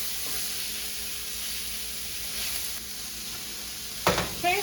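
Onions sweating in a pan for a mushroom and wild rice risotto give off a soft, steady sizzling hiss, with a short clatter near the end.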